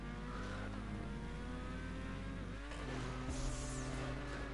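A car engine in a GTA stunt race video game drones loud and steady with a layered buzzing tone, briefly dipping before surging again as the boost kicks in.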